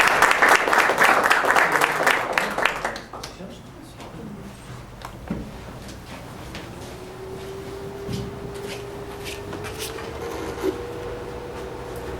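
Audience at a formal admission ceremony for a geographer applauding to welcome the speaker, loud dense clapping for about three seconds that then fades into a quiet room with scattered small noises and a murmur of voices.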